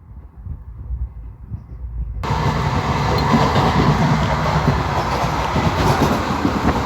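Steady rumble and rattle of a passenger train running on rails, loud and continuous after a quieter opening, with broadband clatter throughout.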